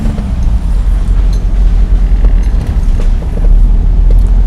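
A car engine hums and pulls steadily during a driving lesson, a close, continuous low rumble that rises slightly toward the end, with no voices.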